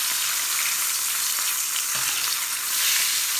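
Whole fish fries in oil over low heat, giving a dense, even, close sizzle that holds steady with only slight swells in intensity.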